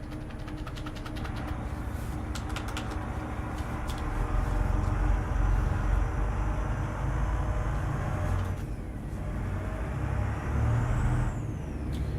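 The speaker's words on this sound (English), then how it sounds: "this bus sound good" A bus engine rumbles loud and close for about twelve seconds, with air brakes hissing and releasing amid the steady drone and the whine of the moving vehicle.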